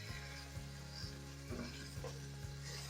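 Bacon frying in a pot: close, steady crackling sizzle with a rhythmic pulse under it, no talking.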